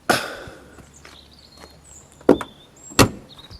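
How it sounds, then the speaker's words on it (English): A 1970s-style Porsche 911 2.7 car door is shut firmly twice, two solid close thuds a little apart, after an earlier clunk and some quiet handling noises. "Door shut nicely, and the fit is good as well."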